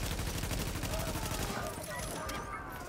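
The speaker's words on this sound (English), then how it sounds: "Is that gunfire?" Gunfire in Tom Clancy's The Division, a steady burst of rapid shots and explosive cracks running for about three seconds, loud and close, with a voice talking faintly underneath.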